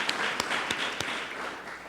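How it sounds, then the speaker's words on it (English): An audience at a university campaign announcement applauds a delegate, a short burst of mid-distance clapping with a few sharp individual claps over the crowd's patter, fading slightly toward the end. "Let's give him a round of applause."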